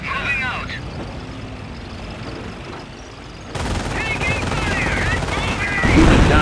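Bursts of machine-gun and rifle fire crackle around an infantry squad in Company of Heroes, quieter at first, then a louder dense barrage with engine rumble, while soldiers' voices call out over the shooting.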